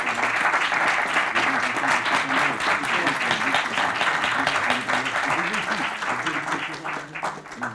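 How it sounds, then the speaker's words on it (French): Audience applause fills a French award ceremony honouring an actor at a festival, steady and dense throughout with voices murmuring beneath the clapping. "Des applaudissements"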